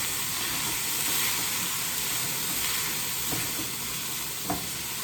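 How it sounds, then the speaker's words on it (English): Three bean chili sizzles in a pan as it is stirred, a constant loud frying hiss with a few soft scrapes of the spoon against the pan. "I'm going to go ahead and stir this a little bit"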